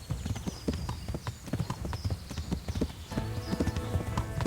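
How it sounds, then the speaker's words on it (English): Horse hooves clip-clop steadily under a ridden horse in the medieval game Kingdom Come: Deliverance, a close, rhythmic trot with a brief whinny-like tone near the end. "I'm on a horse."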